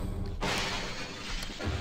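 Glass shatters in the Half-Life video game: a sudden loud crash with a scattering, noisy spray of shards that rings on for over a second, with a fainter second burst near the end.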